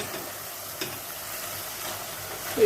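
Mutton pieces frying in ghee for a Mangalorean ghee roast, a soft, continuous sizzle with light stirring and a brief clack at the very end.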